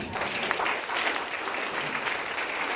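Church congregation applauding during a sermon, a dense, even wash of clapping filling the room for a few seconds, moderately loud with no clear voices above it.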